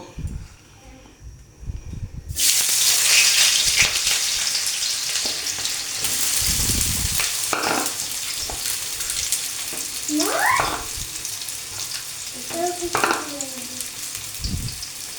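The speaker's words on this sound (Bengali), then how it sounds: "তেলটা গরম হয়ে গেছে, এখন এখানে পেঁয়াজ রসুনটা দিয়ে দেব।" Chopped onion and garlic drop into hot oil for chotpoti and burst into a loud, continuous sizzle that keeps going while a person talks over it and stirs now and then.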